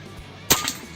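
A single sharp gunshot from a hunting air rifle fired at a target, one loud close crack with a brief ringing tail against a quiet background.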